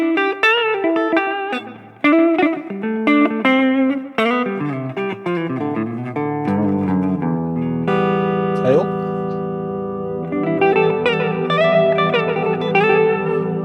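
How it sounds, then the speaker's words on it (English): An electric guitar played through a TC Electronic Infinite sample sustainer pedal with reverb: plucked notes and chords ring out, then swell into long sustained, washing tones with a trailing tail. "you can absolutely increase the reverb with the reverb control"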